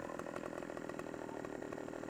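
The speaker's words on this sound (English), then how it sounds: "Need a bigger chainsaw for that, I guess." Chainsaw cutting a tree in the Farming Simulator 17 game, a steady buzzing engine drone with rapid rhythmic pulsing, moderately loud and alone.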